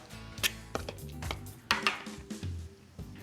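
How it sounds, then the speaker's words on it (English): Ripe avocado being mashed with a fork in a bowl for spicy chunky guacamole, seasoned with salt and black pepper, a series of close, soft thuds and taps against the bowl at an irregular pace. "Just with a fork, just gonna mash the avocado."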